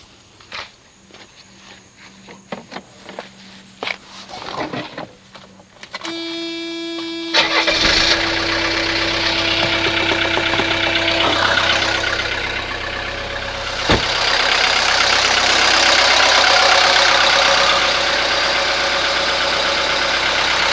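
A 1983 Mercedes 240D diesel engine cranks with a few starter turns, catches and settles into a steady, loud close idle clatter.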